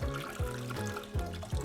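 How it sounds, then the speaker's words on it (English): Boiling water pours into a pan holding apple cider vinegar and spices, a steady close splashing stream with gurgling surges recurring roughly every few tenths of a second, alone without talk. "And then top that up with boiling water"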